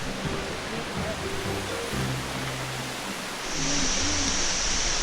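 Steady broadband rush of a flowing river, loud and close, with faint voices murmuring under it and the roar swelling slightly toward the end.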